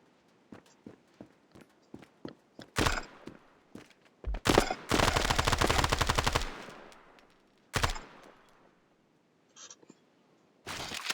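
Heavy weapons fire in the video game Standoff: scattered single shots build to a loud sustained automatic burst near the middle, then a few more sharp reports and quiet gaps.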